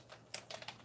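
Keys tapped on a computer keyboard, a few quick faint clicks in an irregular rhythm, close by and quiet with no voices.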